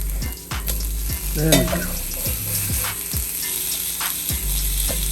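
Vegan burger patties sizzle loudly on a hot pan as they are smashed and flipped, with scraping spatula strokes and clanks over a steady close fry; someone speaks briefly.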